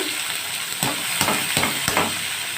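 Cabbage tossed into potatoes frying in a pan, a steady soft sizzle broken by several thumps and scrapes of stirring spaced about half a second apart.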